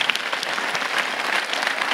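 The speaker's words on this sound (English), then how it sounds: "Could we please give a huge round of applause to our wonderful primary music teachers, Mrs. Salazar and Mrs." An audience at a primary school winter concert gives a round of applause for the primary music teachers, dense, close clapping from many hands that runs steadily for two seconds.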